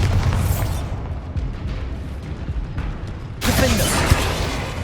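Bombarda explosion spell cast in Hogwarts Legacy, a loud booming blast that erupts suddenly with a bright burst partway through, over continuous game ambience.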